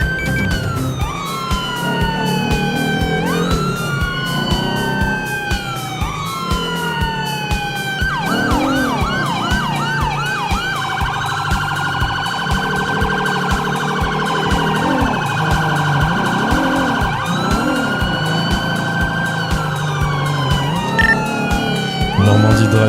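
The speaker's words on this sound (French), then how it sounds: "merci de mettre vos sirènes" Several police car sirens wail and yelp loudly at once during a Hollywood Hills pursuit, their overlapping tones sweeping up and down continuously with a steady engine rumble underneath.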